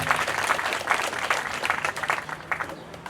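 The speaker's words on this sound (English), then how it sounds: "So let's give Justin Rain a big round of applause as he joins us here." Audience applause welcoming Justin Rain at an Aboriginal Awareness Week opening ceremony, a steady wash of clapping from a crowd that holds throughout and fades a little toward the end.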